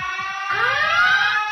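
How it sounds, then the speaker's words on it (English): A spoiler alert alarm sound effect plays as a loud electronic siren, with a steady buzzing tone that rises and swells partway through, heard alone without speech. "That alarm gets louder every time."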